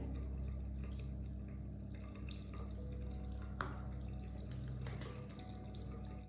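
A bathroom tap runs steadily into a sink as a face is dampened during a night-time skincare routine, the water a quiet, continuous splashing with a faint drip-like flicker partway through.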